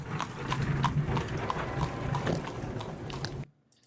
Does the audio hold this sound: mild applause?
no